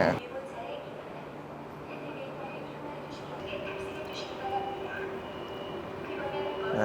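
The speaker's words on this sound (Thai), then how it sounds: "แล้วรถไฟ KTX ของเรา เป็นคันสีน้ำเงินแบบนี้นะทุกคน" A blue KTX high-speed train sits at a station platform in South Korea, giving a low steady rumble and hum in a reverberant space, with voices murmuring nearby.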